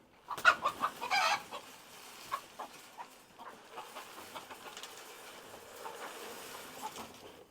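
Several chickens and roosters cluck and squawk in short bursts, loudest near the start, then softer scattered clucks continue at moderate distance with no talking.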